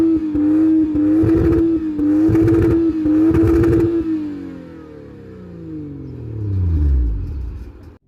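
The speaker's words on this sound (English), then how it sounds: "let's check out how the car sounds and go for a drive" A 2019 BMW M240i coupe's engine revs and idles with bursts of throttle and clattering pops, then its note sweeps down as the car slows, loud and near.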